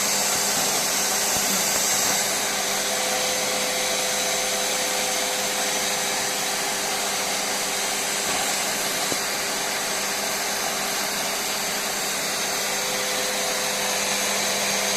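A vacuum machine used for cleaning picked blueberries drones steadily for the whole stretch, a constant whooshing whine at moderate volume, with no voices.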